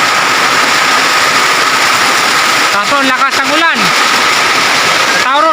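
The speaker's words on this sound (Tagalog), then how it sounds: "ang lakas ang ulan." Heavy rain at a village house: a loud, constant roar of downpour fills the scene, with a voice speaking partway through over the rain.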